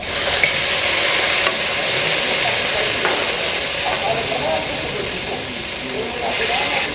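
Cooked meat for Afghani pulao is moved into a hot kadai, giving a loud, steady sizzle and hiss with scraping close by, and a voice speaks over it.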